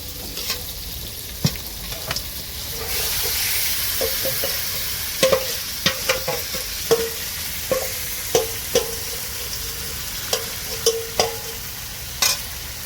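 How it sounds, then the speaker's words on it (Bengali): Mutton stirred and fried with softened tomato and onion for a village-style curry: a continuous close sizzle broken by repeated sharp spoon scrapes and knocks against the pot. "এবার আমি এর ভিতরে কষে রাখা মাংসটা দিয়ে দেবো"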